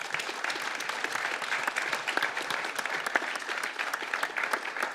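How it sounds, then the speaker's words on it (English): Conference audience at a blockchain and cybersecurity session gives the panel of experts a warm round of applause, a dense continuous patter of many hands at moderate volume with no talking. "give our wonderful experts a warm round of applause"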